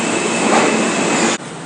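A New York City subway train rumbles past loud and close with a steady roar of rail noise, then cuts off abruptly near the end as if a door closes or the carriage seals.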